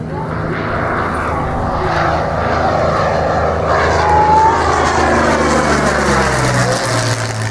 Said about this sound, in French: Voilà l'atterrissage Leillac avec Georges Chauveau, Bernard Laferté